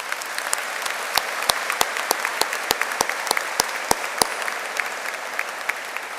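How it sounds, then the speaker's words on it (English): An audience at an outdoor high school commencement claps steadily, with many individual sharp claps standing out over a soft crowd bed that fades toward the end. "Can we please give them a round of applause?"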